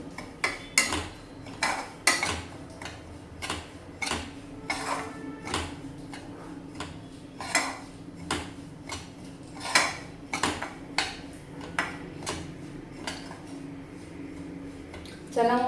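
Semolina (rava) dry-roasting in a pan, stirred with a spatula in steady, closely spaced scraping strokes that repeat nearly every half second, close and fairly loud against a low background hum.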